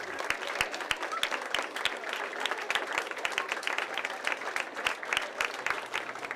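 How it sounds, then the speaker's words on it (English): An entire school student body claps in welcome as the mayor arrives, a dense, continuous wave of applause from a large crowd. "When he arrived, he was greeted with a traditional St. Joe's welcome, a clap in from the entire student body."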